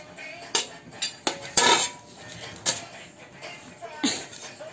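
A small child mixing food in a bowl, with a spoon clinking and scraping against the dish in scattered knocks while an adult talks in the background.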